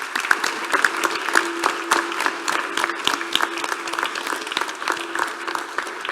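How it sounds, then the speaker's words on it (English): Applause for Laura at a startup demo day, a steady crowd clapping for several seconds, dense and even, with a faint sustained tone underneath. "it's maybe the time for an applause for Laura"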